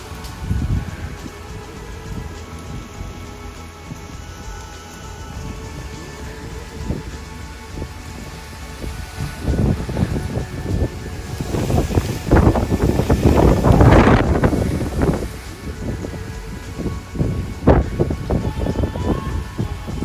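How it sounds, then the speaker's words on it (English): Wind and rain from Hurricane Milton buffet the microphone, starting as a rushing hiss and swelling into loud, gusty roaring bursts in the second half, with no voices. "Getting a lot more wind and rain."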